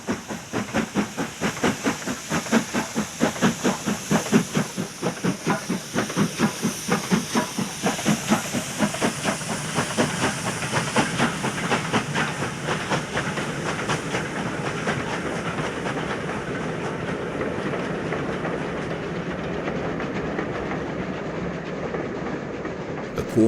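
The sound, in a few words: steam locomotives Black 5s 4767 and 5407 leaving Appleby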